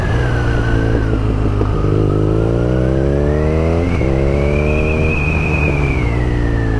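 A BMW R nineT motorcycle engine with a throaty factory Akrapovic exhaust revs up through the gears, pitch climbing, dipping at shifts, then rising again, loud and close.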